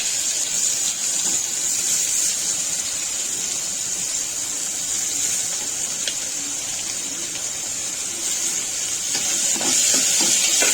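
Chopped onion sautés in a pan with garlic for a jackfruit-seed bhaji, making a steady, even hiss of hot oil with a few faint stirring scrapes toward the end.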